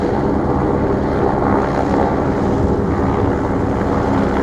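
A helicopter hovers over a neighborhood, producing a constant, dense rotor and engine drone that holds steady without letup, with some wind buffeting on the microphone.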